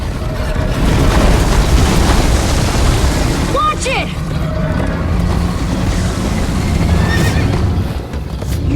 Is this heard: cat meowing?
no